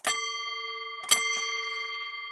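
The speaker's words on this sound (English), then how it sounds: "it is a hotel bell" A metal hotel desk bell struck twice, each ding ringing clear and bright with a long sustained decay, the second strike about a second after the first, close and alone.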